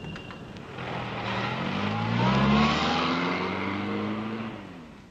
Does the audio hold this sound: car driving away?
yes